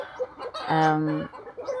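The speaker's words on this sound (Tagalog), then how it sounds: "Mario Josep, kasaba gyud kay sa nga tanan sa among mga chicken guys" Chickens cluck and squawk in the countryside, with short calls and one louder sustained call in the middle, close and lively.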